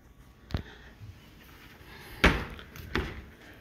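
Three sharp knocks of a kitchen cabinet door banging open and shut, spaced irregularly and close by, with a quiet room in between and no talking.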